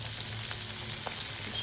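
Garlic sizzles lightly in hot oil with onion added, a steady close crackle that runs unbroken with no talking.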